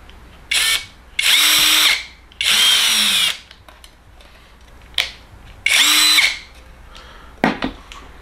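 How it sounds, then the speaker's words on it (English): A power drill bores through a cork mat in four loud whirring bursts of one to two seconds each, followed by a short final burst, with quiet pauses in between and no talking. "I need to drill through this cork mat so that I can be able to hang it"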